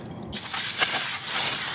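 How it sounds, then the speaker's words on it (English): Aerosol brake cleaner sprayed while cleaning oil leaks on a 2001 Lexus LS430 engine, a single loud continuous hiss bursting on abruptly and holding steady, close up. "I'm just gonna get some brake cleaner here"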